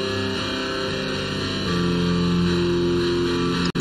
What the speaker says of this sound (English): Then we get the guitar.